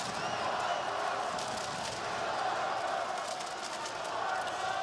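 A large esports arena crowd roars steadily throughout, a continuous wash of cheering and chanting filling a big indoor space during a Dota 2-style grand final between Team Spirit and Team Falcons.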